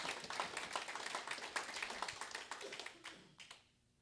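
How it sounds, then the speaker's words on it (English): Audience applause at a Rotary year-in-review gathering, dense scattered clapping from a modest crowd, fairly faint and steady before tapering off into a few last claps. "So I think everybody needs a round of applause for thanking themselves for doing that."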